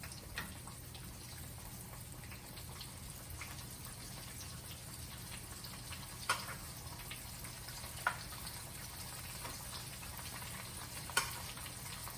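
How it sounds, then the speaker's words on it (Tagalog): A large piece of chicken fries in hot oil, giving a soft, steady bubbling sizzle with a few faint pops scattered through it. "Let's drop the chicken on the hot oil."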